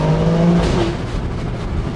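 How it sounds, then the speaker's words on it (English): Alfa Romeo Stelvio Quadrifoglio (2025) under full throttle, loud engine roar with a pitch drop and burst of exhaust crack at the upshift, heard close and without talk. "They've tuned that just nicely to give you that crack on the upshift"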